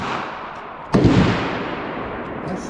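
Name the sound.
pistol firing 40 grain ammunition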